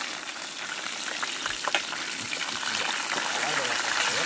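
Black mojarra fish fry in hot oil in pans outdoors by the Lempa River, giving a dense, continuous sizzling hiss that swells slightly louder toward the end.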